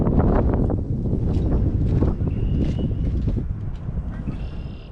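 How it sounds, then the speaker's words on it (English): Strong wind buffets the microphone at an outdoor shooting range, a loud, gusty low roar with rough bursts that never lets up. "It is quite chilly and very, very windy."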